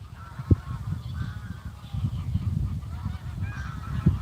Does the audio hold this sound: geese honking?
yes